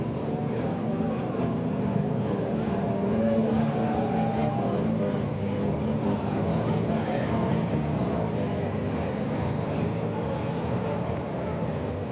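USAC/CRA sprint cars race at Perris, California, in a B main event, their engines a steady, dense roar that holds loud and unbroken throughout with no clear pass-by swells.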